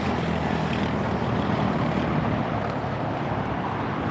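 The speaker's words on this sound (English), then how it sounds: "Something big just took off on the other side and" A large jet aircraft takes off at LAX airport, heard as a steady, broad roar that stays continuous and fairly loud. Wind buffets the microphone throughout and no one talks.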